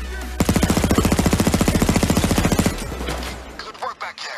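Rapid automatic gunfire in Payday 2 VR rattles off in one loud, close burst of about two seconds, evenly spaced shots, then trails into scattered clatter and echo.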